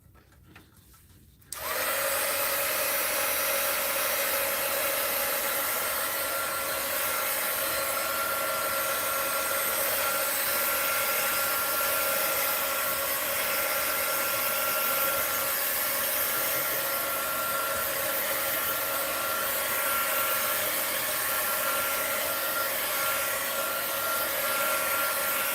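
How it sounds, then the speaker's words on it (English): Heat gun switching on after a brief quiet moment, then blowing in a loud, steady whine without a break while drying an art journal page, close to the microphone. "Now let's dry it with the heat gun."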